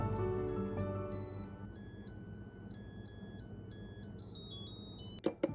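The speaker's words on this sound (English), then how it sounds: "When the porridge is done, you'll hear a little jingle" A Zojirushi rice cooker plays its bright electronic completion melody after cooking rice porridge, a short sequence of beeping tones at moderate volume, followed by a couple of faint clicks at the end.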